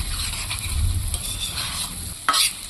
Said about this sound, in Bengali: আস্তে করে জাল দিয়ে নেড়ে নেড়ে কচিয়ে নিতে হবে